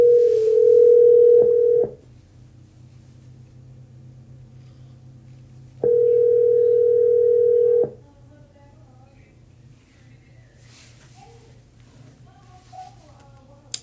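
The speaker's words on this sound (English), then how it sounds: "dial the right number" Steady telephone dial tone on a phone call, two long flat tones of about two seconds each separated by a quiet gap, with faint line hiss and soft sounds in between.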